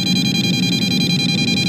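An EMF meter near power lines emits a high electronic tone that pulses rapidly and without pause, a constant fast beeping over a low background hum, steady and fairly loud throughout.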